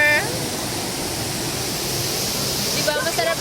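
Steady broadband rush of water pouring down Tipakan Falls in Cavinti, Laguna, constant and close throughout, with a few faint voices rising near the end.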